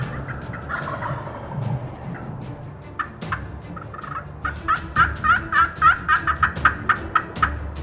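Wild turkey toms gobble in a rapid series of loud, rattling calls in the second half, after quieter outdoor ambience during a bow hunt.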